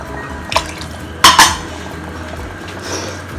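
Rinse water from a mixer jar is poured into an egg curry, with a brief clink of the jar against the pot, a short splash, then quiet kitchen sounds.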